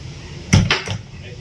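A door whose magnet catch cannot hold it shut bangs and rattles in Cyclone Biparjoy's wind in Kutch. One loud knock is followed quickly by two lighter rattles over a steady rush of wind.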